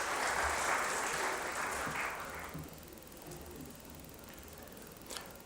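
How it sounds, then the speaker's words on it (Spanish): An audience applauds after a speech at a formal event, the clapping dense and steady at first and then thinning out and fading over several seconds, with a few scattered claps near the end. "Un aplauso, por favor"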